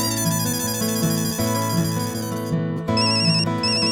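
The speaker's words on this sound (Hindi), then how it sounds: "तारक का फोन।" A loud electronic mobile phone ringtone plays a repeating melodic tune with steady rhythm, clear and close, with no voices, in a TV sitcom scene.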